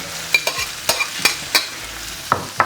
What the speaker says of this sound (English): I'm just going to go in with the pork mince